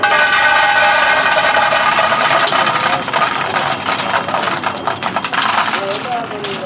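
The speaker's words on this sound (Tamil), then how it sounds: "வாங்க, நம்ம செக்கில் போட்டு இப்போ ஆயில் எடுக்கலாம்" A traditional wooden chekku oil press crushes native peanuts for cold-pressed oil, giving a steady loud mechanical grinding hum with clattering, rattling texture that runs continuously throughout, with no voices.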